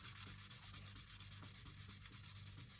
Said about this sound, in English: I was sanding down the whole body with 600 grit sandpaper.